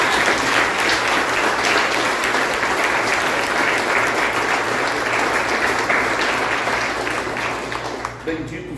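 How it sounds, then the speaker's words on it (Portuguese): Church congregation applauding during an evening worship service: dense, sustained clapping from a large crowd with voices mixed in, fading out toward the end. "Você pode aplaudir a Deus nessa noite?"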